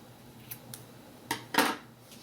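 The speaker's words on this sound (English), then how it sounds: "I'm going to take my scissors and I'm going to cut it" A few sharp snips of scissors cutting yarn close by, the last two louder and quick together, in an otherwise quiet room.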